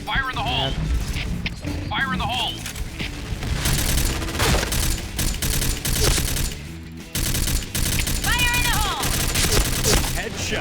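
Dense gunfire from the online shooter Point Blank, with continuous rattling bursts and heavy impacts. The firing is loud and close, overlaid with game effects and occasional talk.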